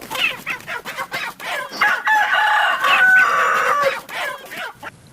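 Chickens clucking and a rooster crowing, close and loud, with overlapping calls and a sustained crow in the middle; no talking.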